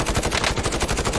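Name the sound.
gunfire from the video game Call of Duty Warzone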